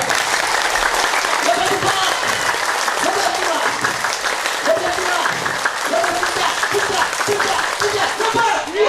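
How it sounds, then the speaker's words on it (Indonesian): A group doing laughter yoga claps hands together steadily for several seconds, a dense, continuous burst of applause-like clapping with voices mixed in. "Tepuk tangan lagi."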